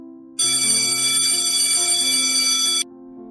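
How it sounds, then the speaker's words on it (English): A bell ringing to end a college lecture, a loud continuous metallic electric ring lasting about two and a half seconds, then cutting off abruptly. "The bell rings to end the college lecture."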